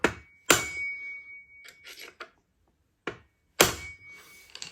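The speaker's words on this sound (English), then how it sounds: "I just use a flat bladed screwdriver and just give that a knock" A flat-bladed screwdriver knocks on a chainsaw brake assembly part during a repair, giving several sharp, close metallic taps spaced irregularly with quiet gaps between them and no talk.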